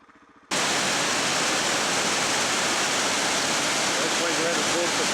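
Water pours over a dam spillway near Lake Buffalo in Victoria's high country, a loud, steady roar of falling water that starts abruptly after a brief quiet moment and continues unbroken.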